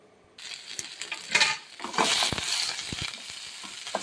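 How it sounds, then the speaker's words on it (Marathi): Spices, chopped onion and tomato hit hot oil in a pan, bursting into a loud sizzle that swells and keeps crackling with stirring scrapes, close up and alone. "पॅनमध्ये थोडे तेल घाला. त्यामध्ये आपण हे मसाले परतवून घेऊ."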